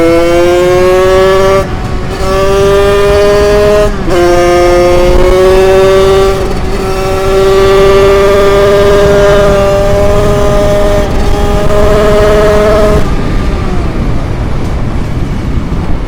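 A small 50cc two-stroke moped engine with an 86cc aluminium top end screams at full throttle, its whine climbing and holding steady with brief dips at gear changes, then dropping off near the end.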